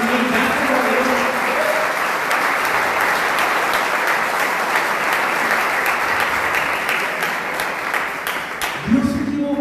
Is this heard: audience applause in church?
yes